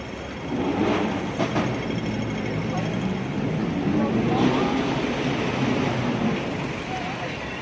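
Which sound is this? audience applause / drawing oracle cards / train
train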